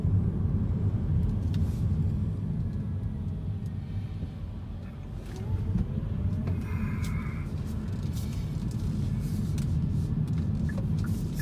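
Hyundai Kona driving over bad asphalt, a steady low rumbling road and tyre drone filling the cabin throughout, with a brief dip and swell midway and faint higher ticks above the constant hum.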